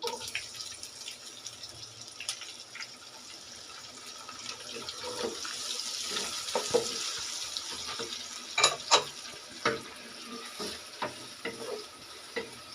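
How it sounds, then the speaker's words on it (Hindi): Onions added to garlic already frying in a pan, a soft sizzle building with stirring clatter and a few sharp knocks of the utensil near the end, no talking. "अब हम इसमें 1 कप प्याज डालेंगे।"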